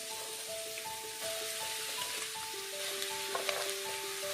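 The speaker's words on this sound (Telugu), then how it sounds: "ఓకే, పక్కన పెట్టేసి ఇప్పుడు దీంట్లో సొరకాయ ముక్కలు వేసుకుందాం." Bottle gourd pieces frying in hot oil in a kadai for sorakaya pachadi: a steady, close crackling sizzle that continues throughout and swells slightly partway, with sustained melodic tones running underneath and no talking.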